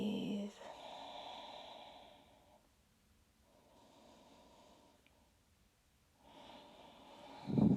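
Slow, audible breaths during a gentle beginner's yoga session, a long exhale at the start and further soft, airy breaths with a quiet pause between, close and calm with no talking.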